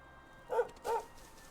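Two short, clear dog barks about a third of a second apart over a quiet background hum in the video game Dragon Quest 11, with no talking during the barks.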